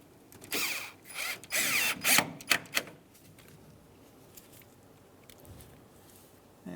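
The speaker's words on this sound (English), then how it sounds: "now we can take our clips for our hose, screw these back in." A power drill drives screws for hose clips back into place on a 1992-1996 Ford F-150, giving several short whirring bursts close by in the first few seconds, then quiet.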